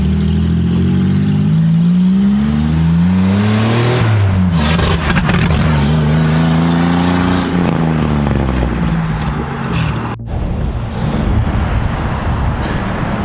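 A replica Ferrari F355 with a swapped 3800 engine drives along. The engine is close and loud, its note rising and falling through several gear changes over about thirteen seconds.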